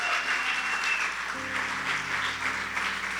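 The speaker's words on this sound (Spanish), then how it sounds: "Denle un fuerte aplauso al Señor" A church congregation applauding together, a steady wash of clapping that holds throughout, with sustained tones from an instrument or voices running underneath.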